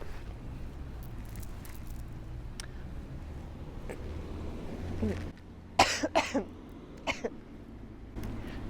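A few sharp coughs ring out near the end, clustered in quick succession, then a couple more single coughs over a quiet hum.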